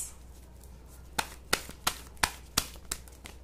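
Tarot cards being shuffled by hand until some fall out, a short run of about seven crisp card slaps at an uneven pace, close and moderately loud over a quiet hum.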